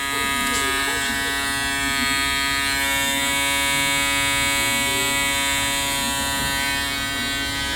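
An Andis reSURGE electric shaver runs close to the microphone with a steady, even buzz, uncovered, that keeps going without a break.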